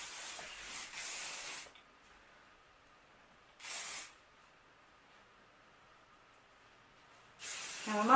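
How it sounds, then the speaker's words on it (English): Hairspray from an aerosol can sprayed onto curled hair in three short hissing bursts, the first about one and a half seconds, a brief one mid-clip and a last one at the end, close and fairly loud, with quiet between them. "So, just add a little hairspray."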